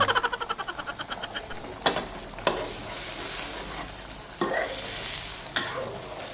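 Chu chee curry with tilapia simmering in a pan, a steady low sizzle and bubbling with a quick run of rhythmic taps at the start and a few sharp utensil knocks, close and moderately quiet.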